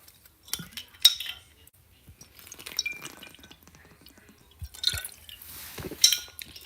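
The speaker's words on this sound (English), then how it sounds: "First-person water drink." A person takes a drink of water, with scattered small liquid drips, sips and glassy clinks spread irregularly over several seconds, fairly close and quiet, with no talking.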